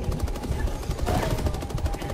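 Rapid automatic gunfire from Helldivers 2 rattles in steady bursts throughout, loud and close, with a voice speaking over it.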